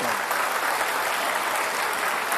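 A studio audience at a televised final debate for the Jakarta gubernatorial election gives both candidates a dense, steady round of applause, loud and continuous from start to finish.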